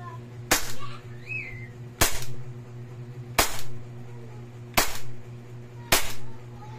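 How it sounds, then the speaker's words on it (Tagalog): WE Glock 18 airsoft pistol fired on semi-auto outdoors: five sharp, separate snapping shots spaced about a second apart, each with a short ringing tail over a low steady background hum. "Firing for semi."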